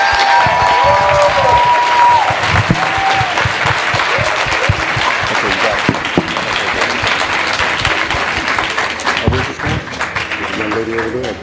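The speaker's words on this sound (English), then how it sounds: "give Ms. Nikki Giovanni another round of applause" Audience applause at a Nikki Giovanni event before a book signing: dense, sustained clapping from a seated crowd filling the room, steady and loud throughout, with a few louder individual claps and some murmuring toward the end.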